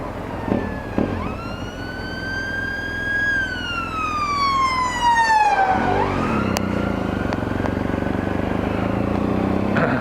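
Emergency vehicle siren with blues and twos, a loud wailing tone that climbs, holds, then sweeps down as it passes close by, followed by a lower rising wail amid steady road rumble.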